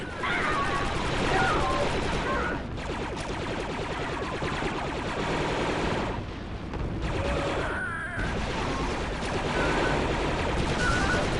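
Dense, continuous gunfire and explosions fill the Star Wars Republic Commando video game battle, with rapid blaster bursts layered under game voices and a steady loud roar throughout.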